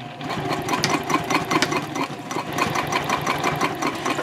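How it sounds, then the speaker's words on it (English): A sewing machine runs steadily, stitching the bottom panel of a vinyl bowler bag at a long stitch length, its needle hammering in a fast, even rhythm close up and uninterrupted. "And this is sewing on the bottom panel."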